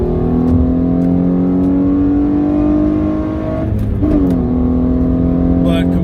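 A Hyundai Genesis Coupe with an Injen intake revs close by with a steady harmonic engine drone that climbs in pitch, dips briefly mid-clip, then rises again.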